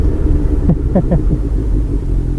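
A Honda CBR650F motorcycle on a commute ride gives a loud, steady engine rumble mixed with wind noise throughout, with a brief faint voice-like murmur partway through.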